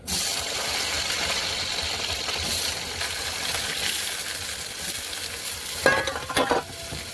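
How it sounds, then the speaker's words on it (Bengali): Potatoes fry in a hot wok (kadai) with a continuous close sizzle, joined near the end by a few clattering scrapes and knocks of stirring. "এদিকে আলু দিয়ে কড়াই গরম হয়ে গেছে।"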